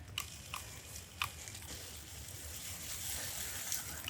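A 1/24 scale RC Toyota Tacoma truck plows through a pile of leaves, giving a steady dry rustling crunch with a few sharper crackles, close and moderately quiet, with no talk.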